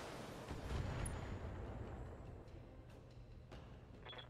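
Missile barrage explosions in the Battletech video game, a rolling series of heavy booms and rumbling impacts at moderate distance, with several sharper bursts and crackles toward the end.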